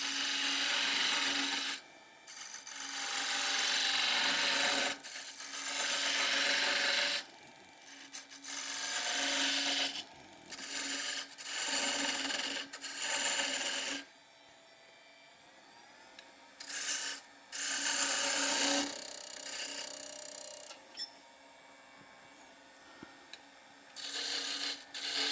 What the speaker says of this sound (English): I'll use this 3/8 bowl gouge to do this.